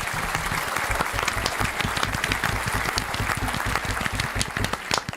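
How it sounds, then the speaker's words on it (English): Loud, sustained applause from a crowd, dense clapping filling the whole stretch without a break. "I love that applause."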